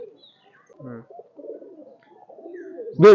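Soft, low coos of high-flyer pigeons in a loft scattered over a quiet background, ending with a sharper, louder bird call.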